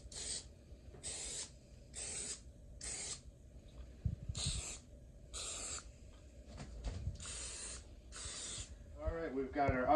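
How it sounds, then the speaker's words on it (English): Repeated short bursts of olive oil cooking spray misted over bread buns before baking, about eight separate hissing sprays in a steady rhythm, close and fairly loud, with a brief rustle at the end. "I'm gonna just give these a little shot of olive oil spray on top"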